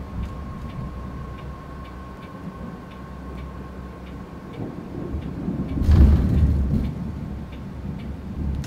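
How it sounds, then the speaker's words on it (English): Thunder from a thunderstorm rolls in as a deep, swelling rumble that peaks midway, under a steady ticking clock and a faint hum, with no speech. "It's been storming all day"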